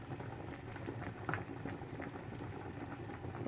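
Beef shanks blanching in a pot of boiling water, a steady low bubbling and rolling boil with occasional louder pops, close and continuous.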